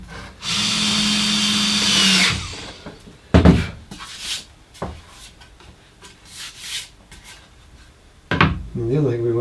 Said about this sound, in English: pop in a couple of screws. Make sure they countersink in well.